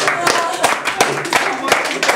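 Rhythmic hand clapping, several sharp claps at a steady beat about every third of a second, over a background of voices and room noise.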